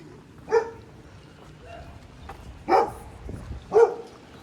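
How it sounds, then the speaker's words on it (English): Dogs bark on a residential street on Logan Avenue in Toronto's Riverdale neighbourhood: three separate, fairly close barks spaced a second or two apart over quiet outdoor background. "Oh, like black dogs,"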